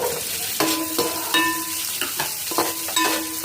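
Finely chopped onions for egg manchuria fry in a pan with a steady sizzle, broken by repeated rhythmic scraping and clanking of a spatula against metal at close range; no one speaks.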